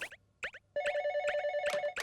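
Cartoon telephone ringing at home in a loud, repeated electronic trill, short bursts then a sustained ring with bright harmonics, alone without talk.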